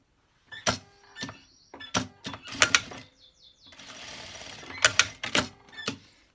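A sewing machine stitching the waistband of a teddy jacket with a zipper, heard as short bursts of sharp clattering interrupted by pauses and one longer steady run, close up and fairly quiet.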